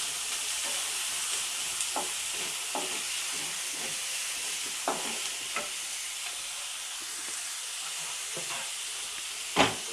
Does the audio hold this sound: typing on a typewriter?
no